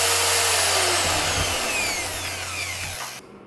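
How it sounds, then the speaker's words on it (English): A magnetic drill with a 20mm annular cutter bores bolt holes through steel plate for a welding table, a loud, steady whirring grind with a low motor hum that winds down and stops near the end. "Using a magnetic drill with a 20mm annular cutter for the bolt holes was fine."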